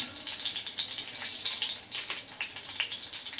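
Cumin seeds, ginger and curry leaves sizzle in hot oil in a pan for a Mahashivratri thali, a steady bright hiss with small popping crackles close up.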